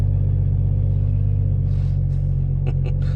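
A BMW M140i's engine drones steadily with a deep, even rumble as its revs ease down, heard from inside the car with no talk over it.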